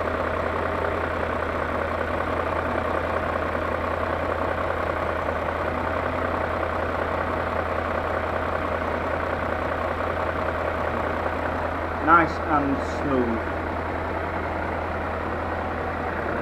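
A BMW E39 M5 with its S62 V8 idles smooth and steady at close range, a constant low hum running the whole time, with a few brief clicks near the end.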